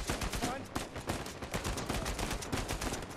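Rapid automatic gunfire in the action game Uncharted 4, a steady rattle of close, loud shots in quick succession throughout, with a little talk mixed in underneath.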